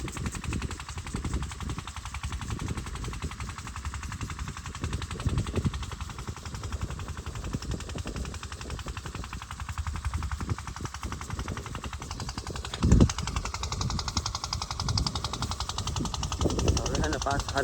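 A newly installed generator runs steadily with a rough, pulsing engine chatter throughout, with a sharp knock near the end; voices talk over it.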